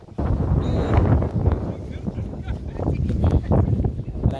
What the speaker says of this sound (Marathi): वारा आहे ना खूप